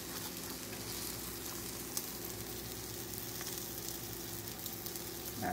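Egg-dipped toast frying in butter in a pan, giving a steady, close crackling sizzle that continues evenly throughout with no talking.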